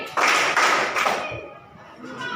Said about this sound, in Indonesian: Anak berkat tepuk 2 kali